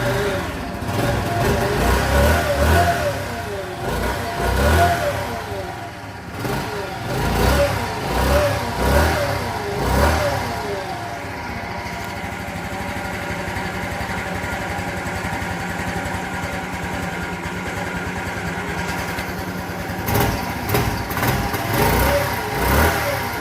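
A 1984 Honda Elite 125 scooter engine cranks and catches, running loud and close with uneven revving bursts before settling into a steady idle, then picking up again near the end.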